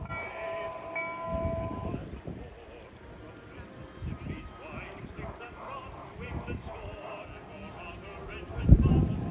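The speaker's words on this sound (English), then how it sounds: "we headed back over to the Lincoln funeral train to catch it actually going forwards" A G scale model of the Lincoln funeral train runs forward on an outdoor garden railroad at an arboretum, with a low, soft rolling rumble and clatter under faint background murmur, swelling to a louder burst near the end.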